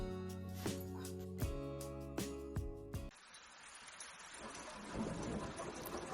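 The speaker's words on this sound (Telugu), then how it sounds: "చెరువు కట్టలు తెంచుకొని వరదలు వచ్చేంతగా ఉరుములతో కూడిన వర్షం పడసాగింది." In an animated story scene, a thunderstorm with torrential rain floods over pond banks: several loud thunder cracks roll in quick succession, then give way to a steady, heavy downpour.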